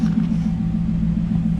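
The engine of a Maserati MC Stradale gives a deep, steady rumble up close while the accelerator is pressed, holding a low, throbbing tone through the short burst with no clear rise in pitch.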